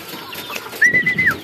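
A single bird call from a bird in a loft, a rising then level whistled note, sounds briefly and fairly close against a quiet background.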